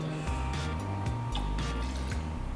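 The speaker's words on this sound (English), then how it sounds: "adding that directly into the top of the fermenter." Thirty millilitres of silicon dioxide fining liquid poured into the top of a beer fermenter, a close, continuous splashing and gurgling pour with irregular drips and glugs.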